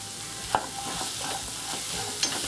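Brown chickpea masala with garam masala and curry leaves stirred in a pan, with scraping spoon strokes and a couple of sharper clinks over a soft continuous sizzle.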